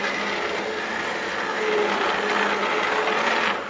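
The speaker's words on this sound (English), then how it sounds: "I'm going to go in with my immersion blender" An immersion blender purees cooked cherries into a cherry rum BBQ sauce, giving a steady whirring drone with a gritty churning edge that holds evenly throughout, fairly close and unbroken.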